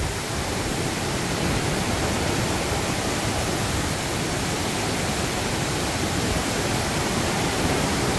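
Water pours through the opened floodgates of Paldang Dam in a loud, unbroken roar of rushing water that fills the whole clip with a steady broadband wash and no pauses.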